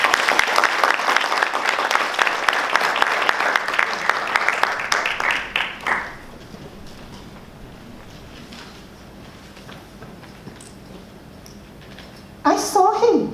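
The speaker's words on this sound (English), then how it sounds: "Let's give another round of applause for Chun Siu Mei." Audience applause at a speech contest, dense steady clapping that fades out around the middle, followed by quiet room tone and a brief burst of sound near the end.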